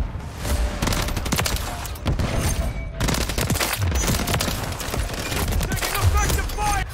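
Rapid automatic gunfire from a first-person video game gun, dense bursts of shots fired in quick succession with brief gaps, loud and continuous, with players talking over it.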